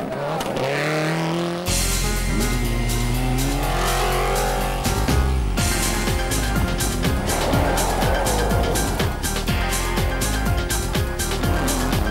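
Rally cars race through a junction on a Kenyan rally stage, one engine roaring close and then giving way to another loud car that revs hard with gear changes and tire scrabble, with no gap in between.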